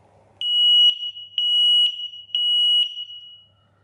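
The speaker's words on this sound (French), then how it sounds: "avec la fumée, ça l'a déclenché, ça sonne super fort" Smoke detector set off by smoke sounds a loud, piercing electronic tone in three long pulses, each broken by short gaps, close by with no talking.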